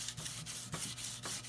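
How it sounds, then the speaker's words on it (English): Light hand sanding of oil-based varnish on a wooden cat boat half hull with 400 grit sandpaper, a steady rhythmic rubbing with about six strokes, close and alone. "So, I'm going to give this a light sanding."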